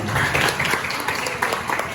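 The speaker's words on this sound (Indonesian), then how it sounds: "Tepuk tangan dulu buat kita semua." Vocational school students at an orientation day clap together in a continuous, fairly loud round of applause filling the room for a brief moment.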